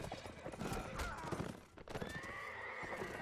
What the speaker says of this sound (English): KM getting demolished by the all-horse charge.